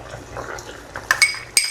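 A spoon stirs a curry powder and broth mixture in a metal pot, giving soft liquid swishing followed by a few sharp metallic clinks of utensil against the pot.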